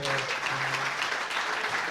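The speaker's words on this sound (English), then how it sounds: "let's give them a big round of applause" Audience applause at a casual science talk, steady clapping filling the room at moderate level, with some voices murmuring underneath.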